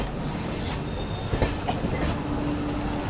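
Janmabhoomi Express push-pull train rolling over a railway bridge on a triple-line section, a steady close rumble of wheels on track with a few soft clanks and a faint squeal.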